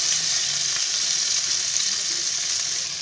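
Chicken and petha frying in a pan, a dense continuous hiss of sizzling oil, close and even throughout, with faint soft shifts as pieces are turned, no talking.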